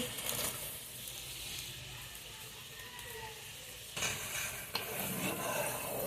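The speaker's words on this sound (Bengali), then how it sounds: "ভেজে রাখা উচ্ছেগুলো এখন ডালের মধ্যে ঢেলে দিচ্ছি" Fried bitter gourd is stirred into dal with fried onion and garlic in a pot, giving a continuous soft sizzle with scraping stir strokes and a sharp clink of utensil on metal near the end.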